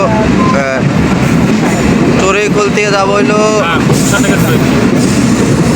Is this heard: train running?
yes